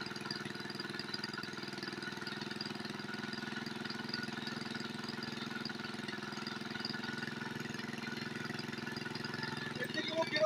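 A small kerosene-type engine runs steadily at idle throughout, a continuous even chugging drone at moderate level with a slight rise near the end.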